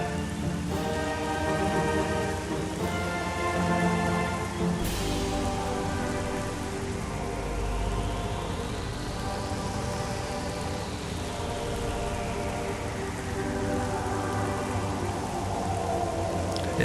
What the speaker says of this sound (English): you got the 4 waterfalls intersecting there. So cool. Lots of rain.